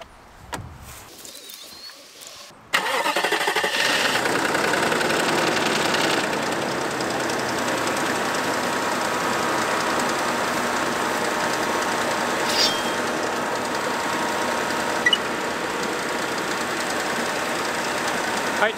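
A Nissan President luxury car's engine idles after a jump start from an Arteck JS18 portable jump starter, a steady mechanical running hum that begins abruptly a few seconds in and continues evenly, with birds cooing faintly nearby.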